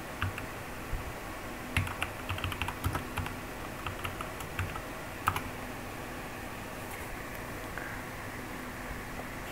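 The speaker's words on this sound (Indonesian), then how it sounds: "kita ketikkan put, kemudian ketikkan" Someone types on a computer keyboard while coding in Ruby, producing scattered bursts of quick, light key clicks over a steady background hiss, with the tapping thinning out toward the end.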